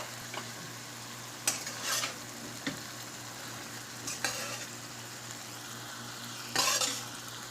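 Chicken liver frying in cooked masala, a quiet steady sizzle with a few sharp stirring scrapes and clinks of a utensil on the pot.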